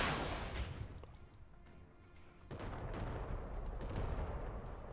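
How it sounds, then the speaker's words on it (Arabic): Heavy naval gunfire in the game Modern Warships: a sharp burst of shots followed by a steady rumble of rapid fire, fairly close and loud, with no voices. "كثافة النيران عالية"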